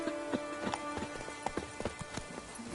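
Roach the horse gallops in Witcher 3, a quick uneven run of crisp clip-clop hoofbeats, close and moderately loud, with a faint game background underneath.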